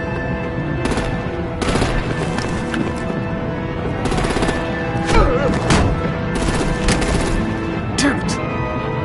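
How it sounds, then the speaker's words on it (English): Rapid gunfire in the video game Batman The Telltale Series during a vehicle firefight, with dense bursts and single cracks over several seconds, mixed with shouting voices and effects. "Break out the artillery and disable their vehicles!"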